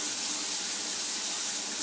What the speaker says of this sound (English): I'm in the shower, right?